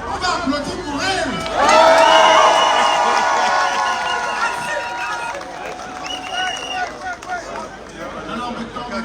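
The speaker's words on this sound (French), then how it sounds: "on va applaudir pour elle" A crowd gathered in Paris for the arrival of Maurice Kamto claps and cheers, with loud shouts and voices swelling early and then settling into mixed chatter and scattered clapping.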